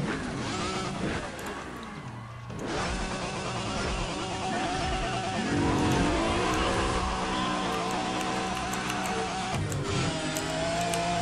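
A race car engine, an Audi driving in NFS ProStreet, roars steadily and loudly across the clip with shifting pitch, blended with other game engine noise and some cacophonous background sound.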